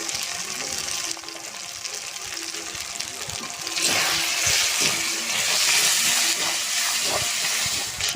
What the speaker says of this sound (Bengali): বাটাটা দিয়ে দেব তেলে।